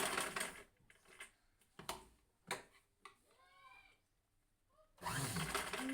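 A sewing machine stitches a dress while a zipper is put in, heard in short bursts of rapid mechanical whirring separated by pauses, fairly faint and close with no talking.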